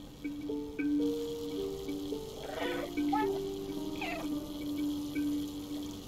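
A cat meows several times in the video game Stray, with short tonal calls over a steady background hum and faint game ambience.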